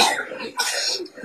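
A person coughs and clears their throat in two or three rough, breathy bursts, close and moderately loud.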